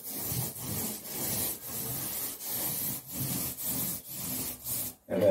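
A paint roller is pushed back and forth along a bathroom baseboard, making soft, rhythmic rubbing strokes about twice a second. It is close and alone, with no voices.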